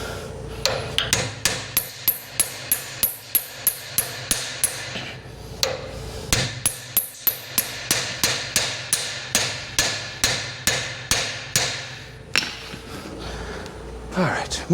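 Repeated metal hammer blows pound a stuck sickle bar part on a 1958 Ford 851 tractor, sharp close strikes in quick rhythmic bursts with short pauses between runs.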